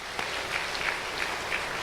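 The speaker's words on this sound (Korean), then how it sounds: "박수 한번 쳐드리세요." Soft, distant applause from a church congregation, a steady wash of clapping with faint individual claps, heard well back from the microphone and without any talk over it.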